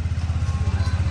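A motorcycle engine thumps at a steady idle with a low, even chugging pulse, close and loud, with no voices.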